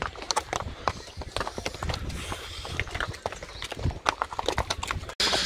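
Horse hooves clip-clop steadily along an off-road trail in Gulmarg, Kashmir, with a brisk, close rhythm of many hoof strikes and some voices and rustling mixed in.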